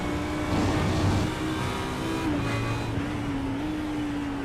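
A GT3 race car engine in a racing video game drones at a steady high pitch, with slight shifts in tone as it rises and settles, heard alone without voices.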